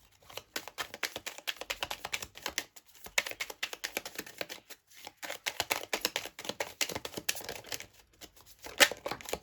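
Tarot cards being shuffled by hand, a dense stream of quick papery riffling clicks and slaps in bursts with brief pauses, close and fairly quiet, with no talking.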